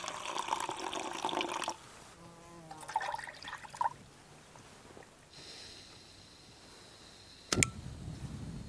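Water pours into a pot holding half a cup of rice and a little butter, coming in short splashing bursts separated by quiet pauses, with a sharp clatter near the end.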